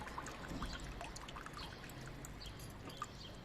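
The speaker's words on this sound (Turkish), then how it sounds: "Şu şekilde altından suyun çıkmasını bekliyorum." Water drains from the bottom of a succulent pot in a steady, close trickle, a soft continuous pouring with a few brief drips, heard alone.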